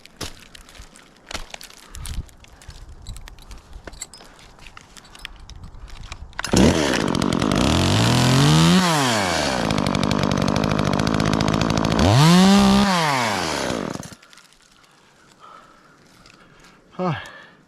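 Chainsaw cutting branch stubs off a tree while the operator climbs with spurs, first faint handling noises, then a loud sustained engine whine with two rising-and-falling revving cuts before it stops, followed by quieter rustling.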